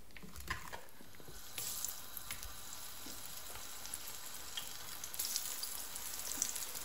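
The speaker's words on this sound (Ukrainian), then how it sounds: "Смажте на великому вогні" Zucchini pieces coated in batter frying in hot sunflower or olive oil over high heat, giving a steady, dense sizzle and crackle throughout with no voices.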